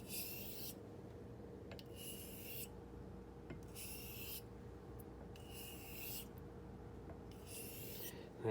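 A blade is honed on a sharpening stone with rolling heel-to-toe strokes, five or six steady rasping swipes evenly spaced and repeating close up, no talking.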